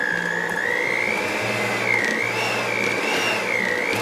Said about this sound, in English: I'm just going to continue to use my hand mixer to incorporate those